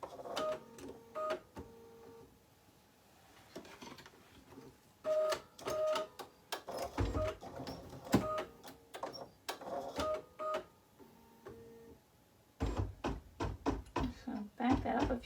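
An embroidery machine stitching in short runs: quick rhythmic needle taps and mechanical clatter start and stop several times, with softer handling noises and quiet stretches in between, recorded up close at low level.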